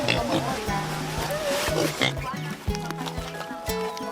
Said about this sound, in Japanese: 豚もココナッツが好きなんですね。